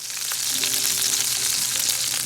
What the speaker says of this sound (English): Frying these patties is a dirty job, but somebody's gotta do it.